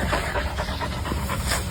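A dog with a spinal injury pants rapidly and steadily close by, a quick rhythmic breathy huffing with no other sounds.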